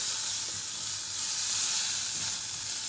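Paprika with shrimp and white beans browning in a pan, giving a steady, close sizzle with a soft hiss that runs evenly throughout, with no voices.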